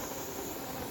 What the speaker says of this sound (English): once your vent here starts steaming like this